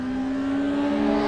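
Peugeot 106 race car at Mallory Park during a Quick60 sprint challenge, its engine holding a steady, sustained drone down the straight, heard from a distance and fairly loud, with no voices.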